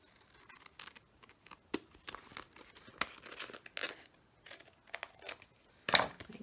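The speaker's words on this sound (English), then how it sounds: "And then we just cut the envelope across here." Scissors snip across a paper envelope in a series of faint, close, crisp cuts and crinkles, with a sharper rustle near the end.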